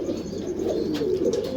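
Pigeons cooing close by in a loft of flying pigeons, a steady low throaty coo repeating for a moment with no talk.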